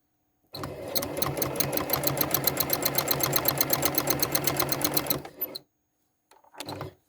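A sewing machine quilting continuous curves runs in a fast, steady rhythmic stitching burst for about five seconds, then stops, followed by a short second burst, close and moderately loud.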